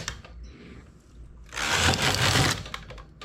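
A hand knitting machine's carriage is pushed across the needle bed for two rows, with a quiet scrape followed by a louder, rough rattling sweep of about a second, close by.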